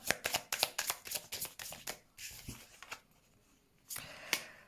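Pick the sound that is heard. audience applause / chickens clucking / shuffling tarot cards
shuffling tarot cards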